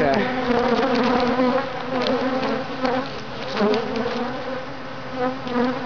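Agitated honeybees buzz continuously around beehives, a dense, close droning swarm that holds steady and loud throughout.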